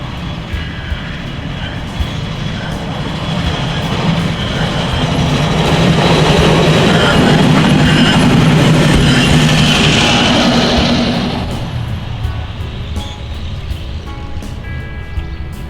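A BNSF freight train passes nearby, its roar building to a loud, sustained rumble of wheels and cars before fading back down.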